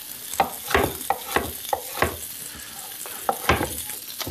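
Seitan strips sizzle and brown in a hot frying pan, a steady crackle broken by repeated sharp scraping stirs every half second or so, close and moderately loud with no talk.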